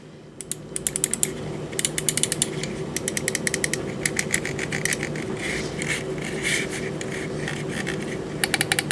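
Rapid plastic clicking from an Endorfy LIV Wireless gaming mouse's buttons, sharp repeated clicks in uneven bursts, close and fairly loud over a steady low background hum.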